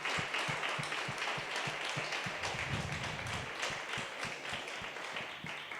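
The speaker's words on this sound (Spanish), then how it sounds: "Dale un aplauso al Señor." A church congregation claps together in a steady, rhythmic pattern, the applause moderately close and continuous, with faint voices mixed in beneath it.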